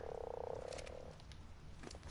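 Frogs in a pen in the video game Ark give a rapid buzzing croak that trails off, followed by softer scattered chirps over a low ambient hum.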